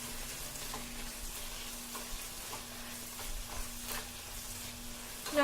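Biryani ingredients frying in a pan, a constant close sizzle and crackle with faint stirring knocks scattered throughout, plus a low steady hum underneath.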